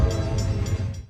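CSX M426 freight train pulling away up a moderate to steep grade near Plaistow, a deep, loud, steady diesel engine rumble with rhythmic clanking close by.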